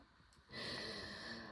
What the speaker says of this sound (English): my little dog is snoring